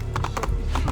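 Horse hooves clip-clop on the ground in Assassin's Creed 3, a quick run of close, loud thuds over dense game background noise.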